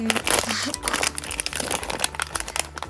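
Close crinkling of a plastic blind box packet being torn open and handled, crackly and uneven, with a voice talking alongside.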